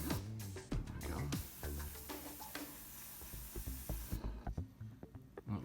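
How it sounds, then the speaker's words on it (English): Airbrush laying a quick paint highlight on a Tau Sunshark Bomber miniature: a steady close hiss runs for about four seconds and then cuts off, with low tones and a faint voice underneath. "sometimes I like to just lay a quick highlight down with the airbrush"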